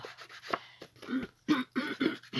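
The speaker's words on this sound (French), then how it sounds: "je me racle la gorge de façon dégueu, n'est-ce pas?" A series of rough, throaty bursts, repeated several times in quick succession, close and fairly loud, like someone clearing their throat with no other talk.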